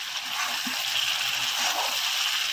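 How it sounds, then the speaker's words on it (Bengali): Plain tap water pours steadily into a cooking pot of potatoes for a village-style desi chicken curry, a continuous close splashing gush. "এবার নর্মাল জল দিয়ে দিচ্ছি।"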